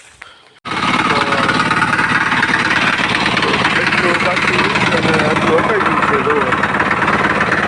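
A power weeder works a lemon orchard on a farm; after a brief quiet start its engine kicks in and runs steadily with a loud, rattling, vibrating drone to the end, a voice briefly audible at the start.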